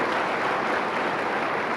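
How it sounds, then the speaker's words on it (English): A studio audience at the 1994 Calor Housewife of the Year cookery competition applauds a contestant, brisk, even clapping from a crowd, moderately loud and continuous throughout. "give her a round of applause"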